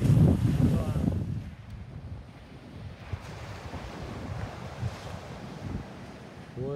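Strong wind gusting outdoors on an elevated bus roof deck under construction, loudest in the first second and a half, then a steady rushing buffet against the microphone.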